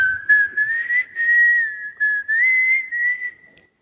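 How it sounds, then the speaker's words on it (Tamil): A person whistles a smooth, sustained melody from a Tamil love song, close and clear, with phrases gliding up and down and brief breaths between them, no talking. "விசில் அடிக்கிறதா இருந்தால் இந்த மாதிரி அடிக்கணும்."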